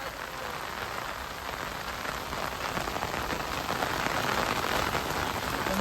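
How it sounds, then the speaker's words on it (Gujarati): Heavy rain pours down steadily in a Gujarat village, a dense, unbroken hiss of drops hitting surfaces, close and constant from start to finish. "આ જુઓ ખાલી તમે વરસાદ જેવો પડે."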